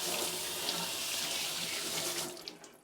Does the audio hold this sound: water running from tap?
yes